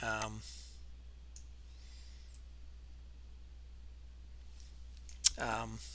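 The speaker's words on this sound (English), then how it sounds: "you can just click on view full option chains" A few sharp, isolated computer mouse clicks while navigating to a full option chain page, faint against quiet room noise, with brief speech at the start and end.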